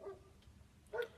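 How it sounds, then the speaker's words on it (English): A dog out in a yard gives a couple of short, faint barks at a distance, with a quiet pause between them. "my dog's been, like, having a shit fit in the yard"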